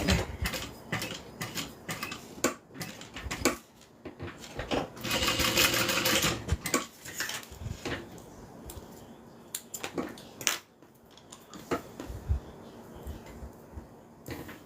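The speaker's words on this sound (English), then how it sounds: "So I'm just sewing down along each side." A sewing machine stitches down the sides of a fabric train case in close, loud bursts of rapid mechanical whirring and clatter, separated by short pauses and brief handling clicks, with no speech.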